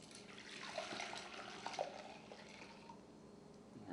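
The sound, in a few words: potato water poured into a bowl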